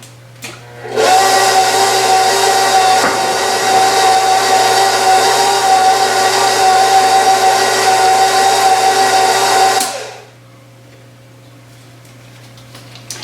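An electric mixer beats banana bread batter with quinoa and peanut butter, a loud steady whirring drone starting after a second, running continuously for about nine seconds, then cutting off to quiet room noise.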